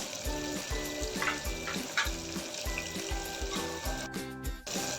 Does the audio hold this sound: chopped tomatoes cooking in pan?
yes